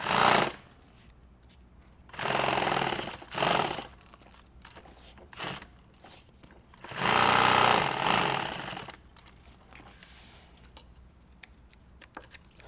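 A sewing machine hems nylon tactical gear in one pass, running in several loud, steady mechanical bursts of one to two seconds each, separated by quieter pauses with faint clicks.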